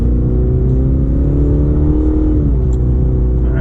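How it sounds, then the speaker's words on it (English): A 2020 Cadillac CT5 Sport's four-cylinder engine hums loudly from inside the cabin as it accelerates, a steady low drone whose pitch climbs smoothly and then dips as the revs drop. "I can hear the induction noise"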